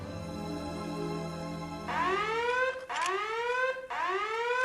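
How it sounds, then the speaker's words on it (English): A loud electronic alarm clock blares a rising, whooping tone that repeats in three sweeping cycles, following a steadier buzzing tone at the start, with no voices over it. "her alarm clock goes off out of the blue"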